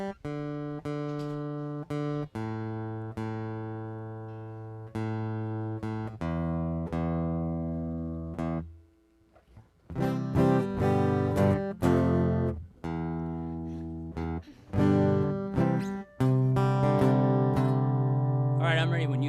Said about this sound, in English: just tune up because this song sounds really funny when you're out of tune